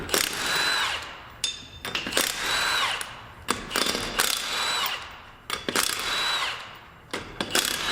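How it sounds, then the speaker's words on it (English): A 1/2-inch impact gun with a 19mm socket removes lug nuts from a Subaru Impreza wheel, giving repeated loud buzzing, hammering bursts of about a second each, separated by short gaps and close to the mic. "I'm using a 1/2" gun with a 19mm socket on it."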